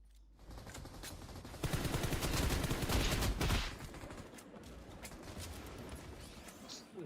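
Rapid video game weapon gunfire as a magazine is emptied. Dense automatic bursts swell loud in the middle of the stretch, then ease to steadier, quieter firing, with faint talk in the background.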